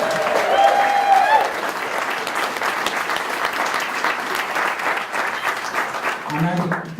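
Wedding guests at a humanist ceremony break into loud, sustained clapping and cheering that fills the space, with a voice briefly audible over the crowd.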